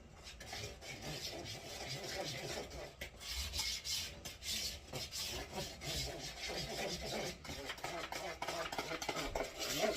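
Coffee toffee cookie dough with vanilla extract being mixed, a steady scraping, rubbing stir that runs continuously and close up, with no talking.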